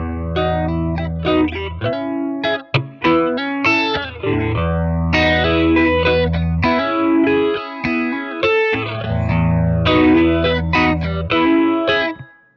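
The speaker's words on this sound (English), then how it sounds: "essentially it's just a crunch amp with a bit of phaser to give me kind of a beastly sound" Crunchy distorted electric guitar through a Boss Katana 100 1x12 combo amp plays a riff of chords and single notes, with a sweeping phaser whoosh moving through the tone, loud and upfront.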